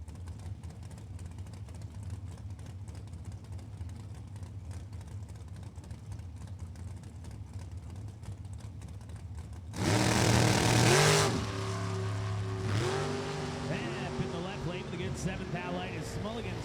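A Cressman dragster at the drag strip start line, a steady engine rumble under the track announcer's commentary, then a sudden loud roar that erupts near the ten-second mark and settles into a sustained, revving howl.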